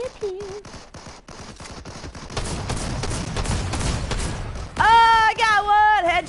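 Fortnite Zero Build gunfire: a rapid series of sharp shots early, then a denser loud burst of overlapping fire and impacts, with a voice talking over the final seconds.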